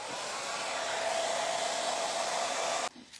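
Hair dryer blows steadily on stencil paint for a close, loud, continuous whooshing hum with a faint motor whine, then cuts off abruptly just before the end, no talk.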